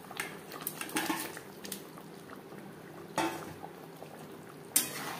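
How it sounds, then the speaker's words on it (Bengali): Fish curry gravy for Katla Kalia bubbles in a pan, a soft, close simmer with occasional louder bursts and clinks of utensil against the pan, fairly quiet with no talking. "ফুটে ওঠা পর্যন্ত অপেক্ষা করব।"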